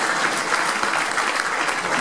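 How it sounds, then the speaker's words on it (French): A crowd applauds at a presentation event for a half-marathon in Nuits-Saint-Georges, a dense, steady clapping that holds evenly from start to finish with no voices on top. "On l'applaudit quand même, monsieur Carton."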